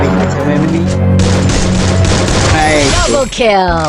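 Rapid in-game gunfire bursts from the Free Fire shooter, a dense loud fusillade of shots with a descending whoosh near the end.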